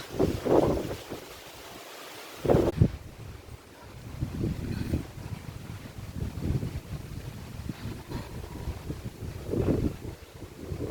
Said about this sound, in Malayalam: വീണ്ടും അതുപോലെ നല്ല കാറ്റാ